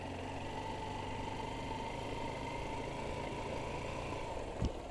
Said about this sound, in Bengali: এই বাইকে একটু দুড়ুম দুড়ুম দুড়ুম দুড়ুম করছে